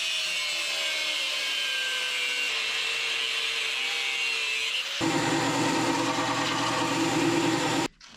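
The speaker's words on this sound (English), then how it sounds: "You may have noticed I just scored that one. I didn't cut all the way through." A power tool scores a 1/4-inch thick, 1-inch wide bar with a continuous close grinding whine. Midway it turns harsher and louder, then cuts off abruptly. No voices.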